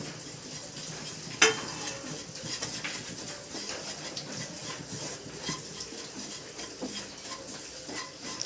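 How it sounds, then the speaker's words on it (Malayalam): Spices fry gently on a low flame in a pan with a soft, quiet, continuous sizzle. A brief clink of a utensil sounds early on. "ദാണ്ടേ ചെറുതായിട്ടൊന്ന് ലോ ഫ്ലെയിമിലിട്ട് ഒന്ന് ജസ്റ്റ് മൂപ്പിക്കുന്നു കണ്ടോ"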